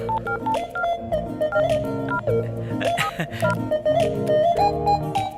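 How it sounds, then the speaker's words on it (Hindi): A telephone is dialed, a quick series of distinct keypad tones in an irregular rhythm, close and clear with no speech. "ठीक है, तो मैं अभी फोन करता हूँ।"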